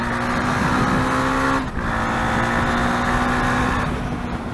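A 2017 KTM Duke 390 motorcycle braking hard from speed: a steady, loud engine drone that dips sharply for a moment, then continues at a slightly lower, even pitch with no talking.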